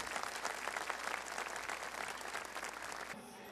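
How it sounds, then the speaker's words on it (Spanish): A congregation at a thanksgiving Mass honoring Santa Rosa de Lima in Peru applauds the President of the Republic, a thick burst of many hands clapping that fades abruptly near the end. "brindémosle un aplauso de cariño y de cercanía"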